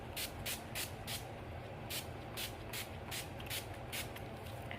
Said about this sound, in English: I'm using the NYX Dewy Finish setting spray